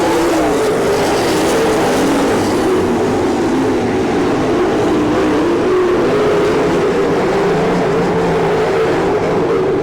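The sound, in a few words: sprint race cars racing on dirt oval track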